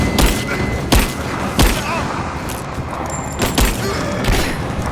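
Gunfire from the video game Rise of the Tomb Raider cracks out as several sharp, loud shots spaced irregularly over a constant rumble of combat noise and thuds.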